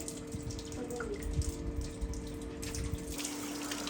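Water sprays steadily from a hose while washing a house, a constant hissing rush close to the mic with scattered splashes and a faint pump-like hum beneath.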